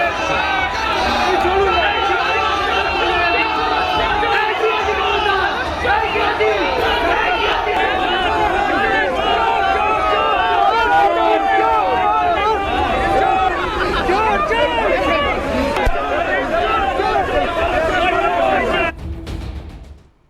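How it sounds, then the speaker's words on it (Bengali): A large crowd shouts slogans in a court compound: loud, dense massed voices and babble run continuously for about nineteen seconds before cutting off abruptly. "তারা স্লোগান দেন বাজেভাবে"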